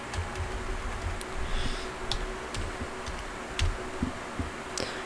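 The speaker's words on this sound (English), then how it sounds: "And let's type" Keys are tapped on a computer keyboard as short, light, irregular clicks spaced through a quiet room.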